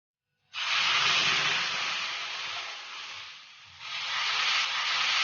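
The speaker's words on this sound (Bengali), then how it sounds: "তাওয়ার মধ্যে ব্যাটারটা দিয়ে দিচ্ছি।" Rice batter hits a hot oiled tawa with a sudden loud, steady hiss at close range, dips midway, then surges again as more batter spreads; no talking.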